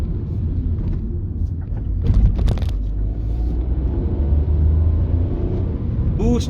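Tata Altroz iTurbo turbo petrol hatchback pulling under boost, a steady low engine drone and road rumble that swells around the middle and holds loud, with brief higher hiss bursts and a faint rising whine near the end.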